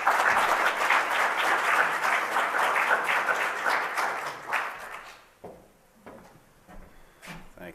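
A lecture audience applauds a speaker, Dr. David Thomas, with dense sustained clapping that thins out into a few scattered claps and room noise.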